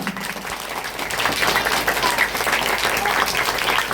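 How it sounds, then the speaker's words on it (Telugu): A school audience at a Christmas celebration claps for the teachers together, steady and fairly loud, building slightly and sustaining for several seconds with no talking. "టీచర్స్ కోసం ఒకసారి గట్టి క్లాప్స్ కొడదామా?"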